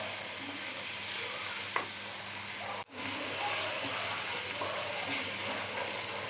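Turmeric and chili powder frying in a hot pan, a steady hissing sizzle heard close and constant, with one brief dropout and a faint clink midway.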